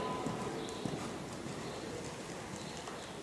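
Horse hooves thud in a steady walking rhythm during a riding lesson after a canter transition, close and moderately loud on soft arena footing, continuous through the whole stretch.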